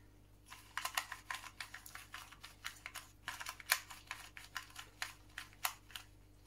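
A MoYu 2x2 Rubik's cube being turned, giving a quick run of crisp plastic clicks and clacks in an irregular rhythm, close and fairly quiet, with no voices.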